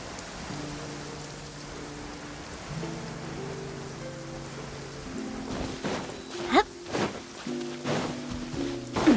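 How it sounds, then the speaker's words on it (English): Rain falls steadily in the video game Genshin Impact, a soft hiss of drops over layered background music, with a few louder splashy bursts toward the end. "It's raining again."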